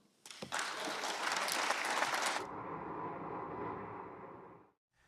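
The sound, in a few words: applause after Senate confirmation vote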